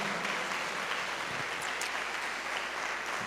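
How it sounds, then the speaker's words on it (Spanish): A church congregation applauds during a worship service, a steady, full wash of clapping from many people in a reverberant room, with no talk over it. "Dele aplausos al Señor."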